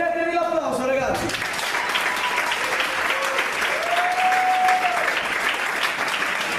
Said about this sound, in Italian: Prendetevi l'applauso ragazzi.